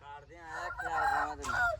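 A rooster or chicken gives a short, nasal, honking call at close range, rising and falling across less than two seconds over a faint low background hum.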